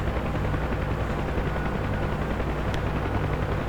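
Rapid gunfire at enemy troops in DCS World, a dense, continuous rattling stream of shots blended with a steady mechanical roar, holding at an even level throughout without pause.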